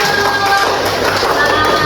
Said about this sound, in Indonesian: Kasih tepuk tangan yang meriah buat kelompoknya Yusuf